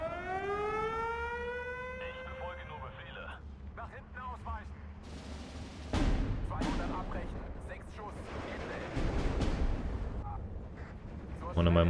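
Mortar strikes in the war game Steel Division 2: after a rising siren-like tone and brief radio-style chatter, heavy booming explosions rumble in two strong bursts, deep and rolling, with scattered distant battle noise between them.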